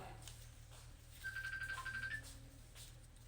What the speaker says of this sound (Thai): โทรศัพท์ไผดังอ